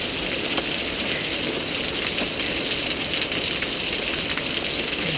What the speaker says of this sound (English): Getting lots of hail.